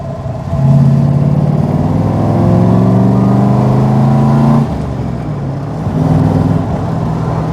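A Daimler SP250 sports car with a V8 engine driving on a road, its steady engine drone rising in pitch through the gears with clear shifts, close and loud from inside the car.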